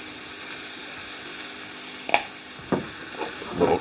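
Red onion, zucchini and eggplant sizzle steadily in olive oil in a pan, a close, even frying hiss broken by a few clinks and stirring knocks.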